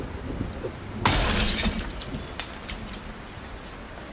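A glass window shatters with one sharp, loud crash in a zombie survival video game set in rain. Faint tinkling debris follows, over a steady background hiss.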